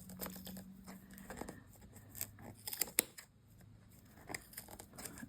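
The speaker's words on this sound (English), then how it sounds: "use this little valley here to stick my scissors in" Scissors snip through the bundled threads of a handmade tassel, a few quiet crisp cuts and rustles of yarn at close range, with soft handling noises between them.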